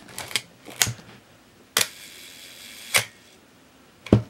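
A Honeywell Pentax Spotmatic 35mm film SLR with a 55mm lens fires its shutter at a one-second speed, giving sharp mechanical clacks, each opening snap followed about a second later by the closing snap, close and clear in a quiet room.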